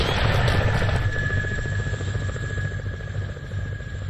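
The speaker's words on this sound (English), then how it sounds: "Mark, we're moving towards the chopper over here, that transport." Transport helicopter in the video game Arma 2, a loud, steady rotor thump and turbine whine close by, continuous throughout with no talking.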